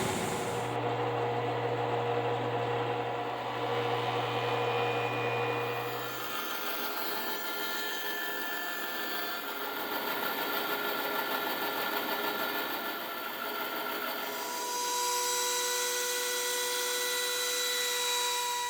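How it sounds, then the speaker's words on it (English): A Timesaver wide belt sander flattens a guitar part before the top is glued on, giving a steady, loud broadband machine roar with a humming motor tone that runs unbroken for the whole stretch. "Run it through the time saver, get it real flat before we glue on our top."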